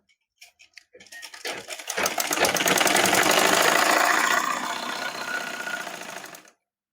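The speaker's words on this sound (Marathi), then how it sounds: "आता शिलाई मारत असताना खालचा परकर सुद्धा व्यवस्थित येतोय की नाही शिलाईमध्ये ते सुद्धा बघायचं आहे." A sewing machine stitching a petticoat: a few soft clicks, then the motor spins up into a fast, loud, even whirr of needle strokes that holds for several seconds and slows to a stop.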